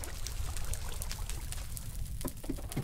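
Water pouring and trickling in a Minecraft-style crash landing game, a soft continuous gurgling flow with faint splashy ticks, steady and fairly quiet with no talk.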